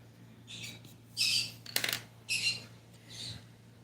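Pet birds in a home let out several short, sharp squawks in separate bursts over a low steady hum, fairly close and moderately loud, with no talking.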